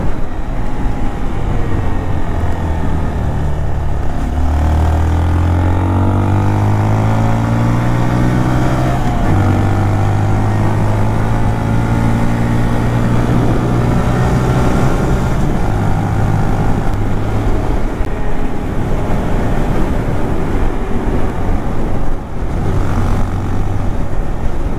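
Small Honda Monkey motorcycle engine droning steadily while riding on a quiet touring road, its pitch rising and falling with the throttle alongside constant wind rush, loud and close throughout with no talking.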